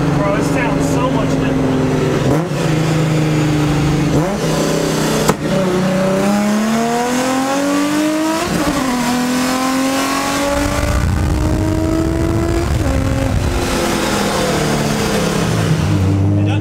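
An old Honda with a ProCharger supercharger, its intake removed, revs loudly and repeatedly, with engine pitch climbing and dropping across several pulls and a harsh, gritty roar up close.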